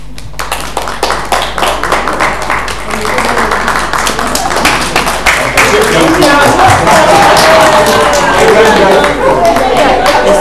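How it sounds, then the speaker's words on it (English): Audience members at an international business conference clap steadily, the clapping swelling into fuller applause as it goes on, while a voice speaks over it. "Young people, clap for yourselves."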